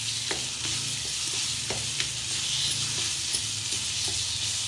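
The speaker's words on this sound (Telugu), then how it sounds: "పసుపు, ఉసిరిగా పేస్ట్ 2 నిమిషాలు ఫ్రై చేసుకోవాలి" Turmeric, onion and amla paste frying in a pan, giving a loud, continuous sizzle with occasional soft stirring clicks throughout.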